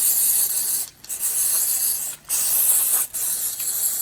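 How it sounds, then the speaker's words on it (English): 606 spray adhesive hissing from a can onto a paper-covered embroidery design outdoors, three long loud continuous bursts separated by brief pauses, close up and without talk. "I'm just going to give a spray."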